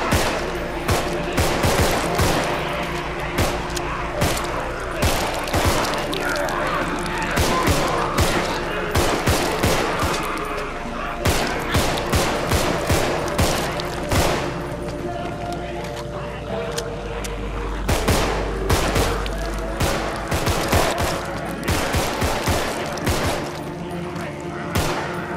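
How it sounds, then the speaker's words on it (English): Bursts of rapid gunfire crackle through a zombie shooter video game, dense volleys of sharp shots repeating over about 25 seconds, with a low rumble underneath at times. "Shoot them in the head."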